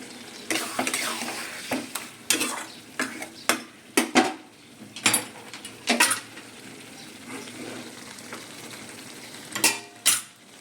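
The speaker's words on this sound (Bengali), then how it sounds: "চিকেন কষছে।" Chicken being sautéed in a pan, with a series of sharp, close spatula scrapes and clanks against the metal at irregular intervals over a faint sizzle, and no voices.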